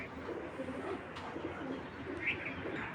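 Racing pigeons cooing in a loft, a steady low murmur of overlapping coos with a brief higher chirp near the end, close and moderately loud.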